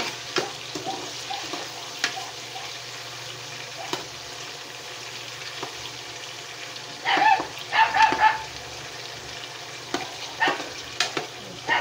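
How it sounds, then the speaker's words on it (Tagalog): A household dog barks in a short cluster of sharp, fairly close yelps partway through, set against a steady background sizzle of food frying in a home kitchen. "Natahol yung aso namin, guys."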